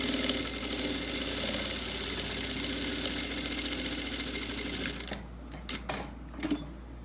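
Sewing machine stitching a quilt block seam, a steady continuous mechanical whir for about five seconds, then stopping into quiet with a few small handling clicks.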